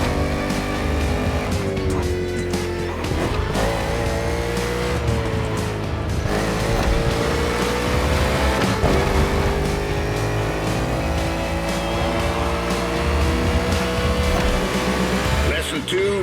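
NASCAR stock cars race in The Crew Motorfest, engines droning loudly and steadily throughout with occasional tire squeal, while a voice speaks over the racing.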